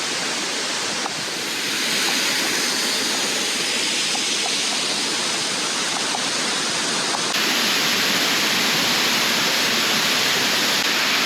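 A waterfall roars in a constant, loud, close rush of falling water, broadband and unbroken, with no voices over it.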